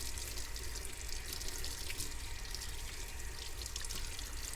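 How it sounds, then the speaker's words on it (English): A sink faucet runs steadily into a basin during handwashing in a clinical setting, a continuous close hiss of flowing water with no pauses. "Let the water run."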